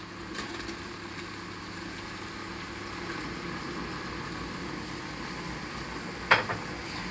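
Chopped onions go into a pan for a Kerala-style beef curry, giving a steady, moderately loud sizzle under a constant hiss, with one sharp clatter of a utensil near the end.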